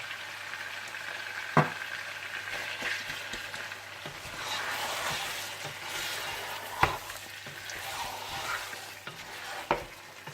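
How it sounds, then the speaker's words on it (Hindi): Mutton being fried with salt, chicken cube and ground ginger-garlic for kabsa, giving a steady soft sizzle with scraping stirs and a few sharp utensil knocks against the pot. "इसमें डाल दें नमक, चिकन क्यूब और पिसा हुआ अदरक लहसुन डालकर अच्छी तरह से भून लीजिए"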